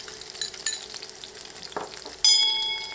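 Dried red chillies and chopped garlic hit hot oil with whole-spice tempering for a thick restaurant-style dal, giving soft crackling and stirring scrapes, then a sudden louder sizzle burst that holds steady near the end.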